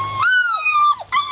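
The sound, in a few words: German shepherd puppy hollering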